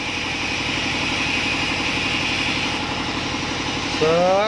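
Machines run steadily in a working plasma-cutting workshop, a loud constant mechanical drone with a low rhythmic engine-like throb, rising slightly near the end.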